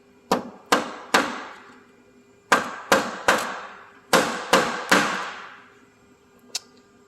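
Sharp metallic taps on a 2010 Mitsubishi Outlander's vent valve struck in three clusters of three, close and ringing briefly, then one lighter tap after a pause.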